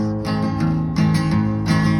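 A guitar chord rings out, strummed several times in a steady rhythm with a low bass note, an F on the sixth string, underneath, close and clear with no voices.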